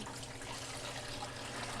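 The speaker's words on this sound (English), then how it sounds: "put just a little bit of distilled white vinegar at the bottom of your pot, like a tablespoon or so, and 2 quarts full of water" Water poured steadily into a pressure canner pot, a continuous close splashing rush without a break.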